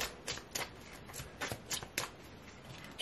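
Tarot cards are shuffled by hand in quick, close riffles and soft slaps that come in irregular bursts, fairly quiet and with no voice over them.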